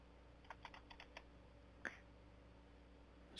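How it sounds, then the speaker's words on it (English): Keyboard typing captured on a dispatch call recording: a quick run of soft clicks early on, then an isolated tap, faint and close against a low steady line hiss. "this noise is just keyboard sounds"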